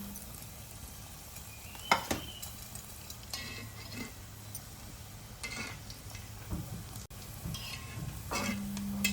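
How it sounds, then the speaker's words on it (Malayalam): Bitter gourd pieces fry in coconut oil with a steady, close sizzle and crackle, broken by a few louder clinks and stirring scrapes in the pan; no one speaks. "അപ്പം ഇനി ഇത് വറുത്ത് നോക്കാം കേട്ടോ"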